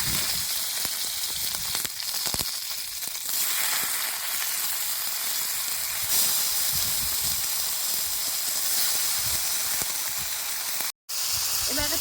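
Loud, continuous hissing sizzle of gourd leaves frying in a hot pan, with a sharp break near the end.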